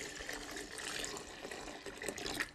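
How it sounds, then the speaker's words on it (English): Water pours from a container into white glue in a mixing bowl, a continuous splashing trickle at close range with a few brighter splashes near the end. "And now let me add the water."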